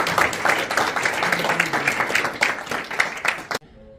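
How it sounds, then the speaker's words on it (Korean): Audience applause at a leaders' forum lecture, a dense, steady wash of clapping that carries on for about three and a half seconds before breaking off abruptly. "박수 하나 좀 부탁드려도 될까요?"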